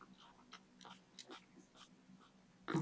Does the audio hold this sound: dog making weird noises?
yes